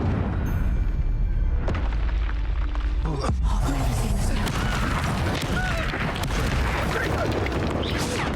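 Spell explosions from a Harry Potter–style wizard dueling game, the Confringo blast among them, booming and crashing in a dense, continuous barrage of magical impacts with rumbling low end and no clear gaps.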